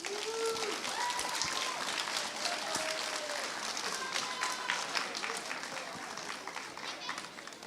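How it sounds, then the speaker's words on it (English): An audience at a middle school awards ceremony gives sixth grade award winners a dense, sustained round of applause, with children's voices and chatter mixed in throughout. "Let's give the sixth grade award winners one more round of applause"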